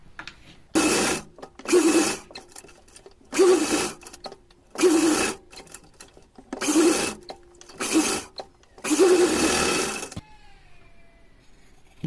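A sewing machine stitches the lining of a small cotton deity outfit in several bursts of fast, close whirring, each lasting about a second and separated by short pauses, then falls silent.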